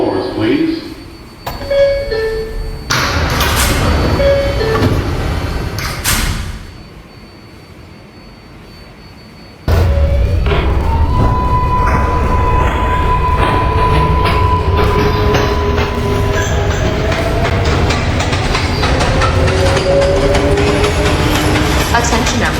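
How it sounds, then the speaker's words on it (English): Manhattan-bound 4 express subway train in New York: close rumbling and rattling of cars departing the station, with clickety-clack and rising whine building steadily after a brief lull, broken by bursts of talk and announcements. "Stand clear of the closing doors, please."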